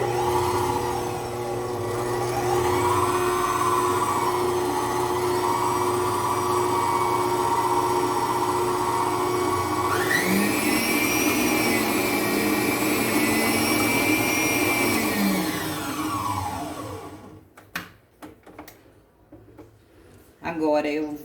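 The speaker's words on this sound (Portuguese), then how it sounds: "Eu tenho aqui uma colher bem cheia de manteiga. E aqui eu começo a bater." An electric mixer whirs steadily as it beats butter for colomba pascal dough, its motor pitch rising in the middle stretch and dropping away near the end before it switches off, followed by faint clatter.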